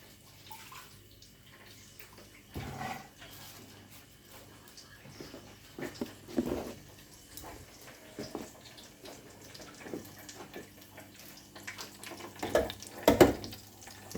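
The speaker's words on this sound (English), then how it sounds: "So I'll just wash my hands." Water runs from a kitchen tap during handwashing, a steady close stream with splashing bursts that swell and fade as hands move under it, with no talking.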